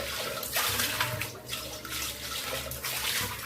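Water used to wash fenugreek leaves is poured out of a cooking pot, a close, splashing gush in uneven surges with brief pauses between pours.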